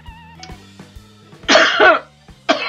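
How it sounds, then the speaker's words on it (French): Two harsh coughs burst out close to the microphone, one longer rasping cough followed by a shorter one, over a quiet background hum. "je tousse comme d'habitude"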